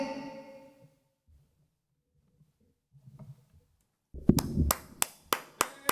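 A small live audience at an intimate sofa-session gig breaks into applause after a song ends, a burst of close hand claps that follows a quiet pause and trails off into a few spaced, separate claps.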